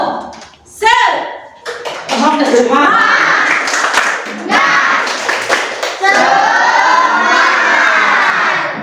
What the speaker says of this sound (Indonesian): Ayo tepuk semangat dulu.